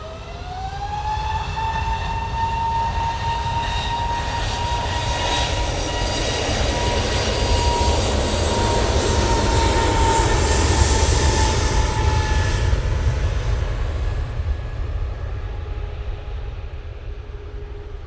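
A jet airliner in bright orange livery, just landed at Manchester Airport, roars loudly and steadily with a rising whine that swells and then slowly fades over about eighteen seconds, without any voices.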